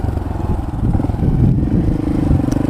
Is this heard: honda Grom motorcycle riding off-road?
yes